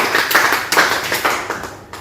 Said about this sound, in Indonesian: Kita kasih aplaus untuk Sadia.